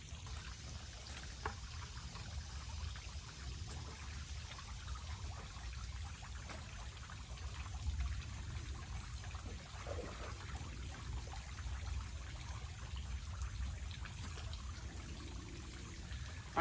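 Pond water pours onto the base of espaliered pear trees outdoors, a faint steady trickling stream that continues quietly with no talk.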